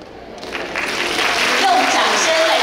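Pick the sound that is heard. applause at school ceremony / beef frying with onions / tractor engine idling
applause at school ceremony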